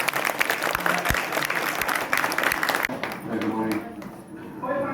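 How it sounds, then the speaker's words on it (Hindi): An audience at a company recognition event applauds to welcome guests, dense clapping at first that thins out as voices come through underneath. "आप लोग थोड़ा सा तालियों से जरूर वेलकम करते हैं"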